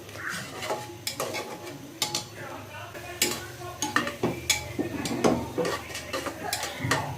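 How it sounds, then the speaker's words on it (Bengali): Ground coriander, cumin, cardamom and cinnamon powder are stirred and fried in a pan for a beef head meat bhuna, with repeated scraping and clinking of a utensil against the metal over a soft, steady sizzle, close and moderately loud. "দিয়ে দিচ্ছি ধনের গুঁড়ো, জিরার গুঁড়ো, দিচ্ছি এলাচি দারচিনি গুঁড়ো, দিয়ে আমি ভালো করে এটা কষিয়ে নিব।"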